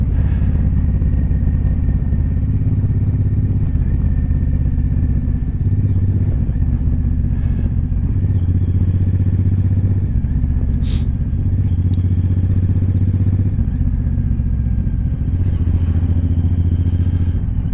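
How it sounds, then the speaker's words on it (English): A Suzuki M109R motorcycle cruises along, its engine droning loud and close with repeated rises and dips as the rider works through the gears, a steady mechanical rumble with rushing wind and no talk. "I just love riding a motorcycle"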